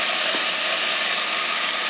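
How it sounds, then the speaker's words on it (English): Cream cheese and frozen corn sizzle in a hot pan: a steady, even hiss that runs unbroken and close throughout, with no voices. "I'm going to put in the cream cheese, and it's sort of sizzling because it's hot"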